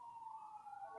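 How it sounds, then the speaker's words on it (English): A faint, distant police siren wails outside a window, its tone sliding slowly, heard alone against a quiet background. "if you can hear the police sirens outside of my window"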